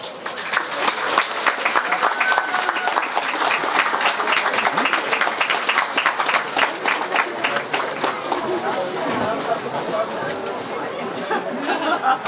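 At an outdoor town festival procession, a crowd breaks into sustained applause with rapid clapping that gradually thins out toward the end, mixed with murmured chatter.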